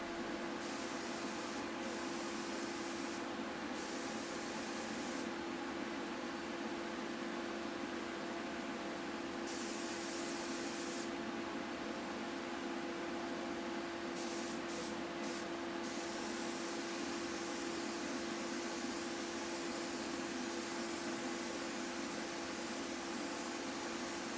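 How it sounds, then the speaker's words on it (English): A steady, continuous hiss of a spray gun applying sealer to a wooden mid-century Lane coffee table runs unbroken throughout, with a constant mechanical hum underneath and no talking. "I just sprayed more sealer over them after I was done, and then just went back to spraying"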